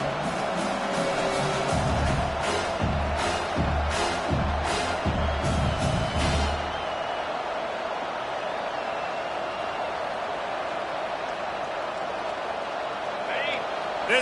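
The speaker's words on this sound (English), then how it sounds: "This crowd trying to make life miserable for this offense." A college football stadium crowd roars loudly during a game while a commentator talks over it; pulsing chants and stomps in the first half settle into a steady, broad wash of crowd noise.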